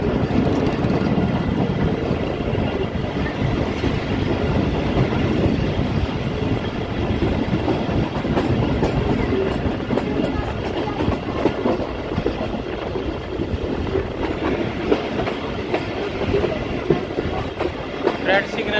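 The TezGam Express train runs on the rails between Lahore and Raiwind, with a steady loud rumble and rattling clatter of wheels and carriages heard from inside throughout.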